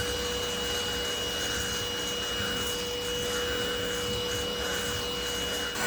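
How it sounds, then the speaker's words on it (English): An all-in-one dog grooming clipper runs with its guard not snapped in firmly. A constant, close electric hum with a steady tone carries a faint buzzing rattle from the loose attachment throughout. "I think I don't have this on quite well because it's rattling."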